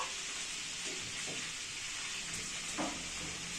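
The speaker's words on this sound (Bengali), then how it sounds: "এই চিকেন ভাজার যে তেলটা থাকবে তার মধ্যে আমি দুটো তেজপাতা" Bay leaves with cardamom, black pepper and cloves fry in oil left from frying chicken for a Delhi Mughal-style chicken qorma, making a continuous hissing sizzle with faint stirring and no talking.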